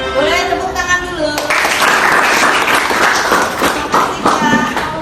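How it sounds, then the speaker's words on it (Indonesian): A class of students in an Indonesian civics lesson bursts into applause after singing their alma mater song; the sung tail gives way to loud, dense clapping with a few voices mixed in. "Boleh tepuk tangan dulu."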